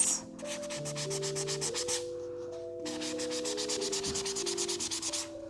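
A wooden round board is sanded by hand in quick, rhythmic back-and-forth strokes, paused briefly midway, while music plays steadily underneath.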